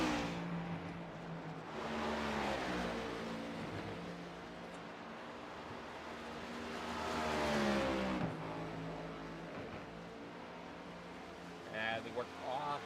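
Race car engines at Watkins Glen rise and fall as the cars brake into turn one and accelerate away. Revving and downshifts sound at middle distance, with a commentator talking over them throughout.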